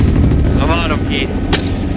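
Daniel Defense PDW pistol chambered in 300 Blackout fired from a helicopter during a hog hunt: a single sharp shot cutting through heavy, constant rotor and engine noise, with voices faintly present.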